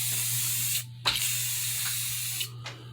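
Spray can spraying primer onto a Jeep Cherokee XJ window blank, close and loud hissing bursts with short pauses between passes, over a steady low hum.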